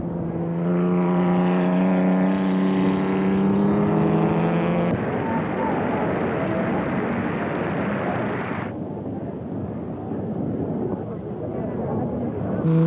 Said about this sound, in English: On the outer circuit, the Altas, the MGs, the Bugattis and the ERAs fighting it out.